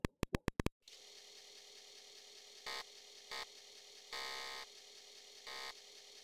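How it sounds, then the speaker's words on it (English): A telephone rings in the Commodore 64 text adventure Deadline, sounding as four short electronic buzzes, clear and alone. "And that phone is ringing."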